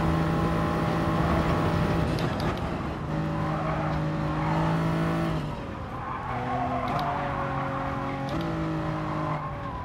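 A Gr3 Toyota Supra race car in Gran Turismo Sport at the Nurburgring 24h circuit roars loudly near the listener, its engine pitch climbing and dropping through gear changes, with tires squealing at moments.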